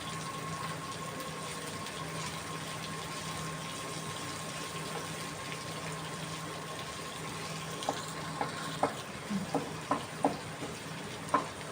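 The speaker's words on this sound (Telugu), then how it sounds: "ఆనియన్స్ గోల్డెన్ బ్రౌన్ వచ్చేంత వరకు వేయించుకోవాలి." Sliced onions fry in a pan with a steady, even sizzle, and a few soft clicks of stirring come near the end, with no talking.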